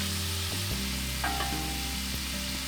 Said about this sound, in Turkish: Yine hafiften şöyle bulandırdığımızda etin yumuşacık pişmesi sağlanmış olacak yine